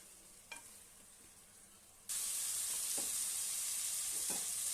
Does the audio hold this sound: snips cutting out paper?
no